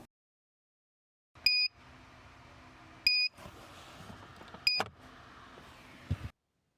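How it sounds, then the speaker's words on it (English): A T-box tuning device plugged into the OBD2 port of an Audi A4 B8.5 beeps three times, short sharp electronic tones spaced about a second and a half apart, with faint interior noise between them. "After a few minutes, it'll make a few beeps, and that's my cue to unplug it from the port"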